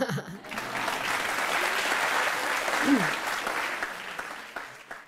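A studio audience at a Marathi television courtroom-style talk show claps in a dense, sustained burst of applause that swells and holds for several seconds before tapering off.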